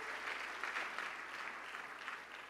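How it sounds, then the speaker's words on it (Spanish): A church congregation applauds the Lord in steady, dense clapping that sounds somewhat distant and muted, filling the room evenly without pauses. "Dele una ofrenda de palmas al Señor."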